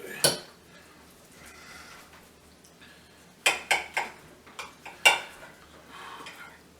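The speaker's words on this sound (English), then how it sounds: "I'm gonna continue to cut it this way." Knife slicing through a thick, tender 76-ounce tomahawk steak on a board, giving several sharp, close clicks and scrapes in a short burst, separated by quieter pauses.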